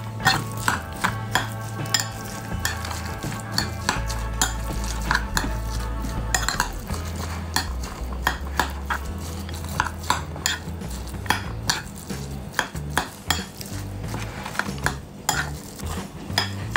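A utensil stirs and scrapes food in a pan, with repeated metallic clinks and knocks in an uneven rhythm over a low background hum, close and fairly loud, with no voices.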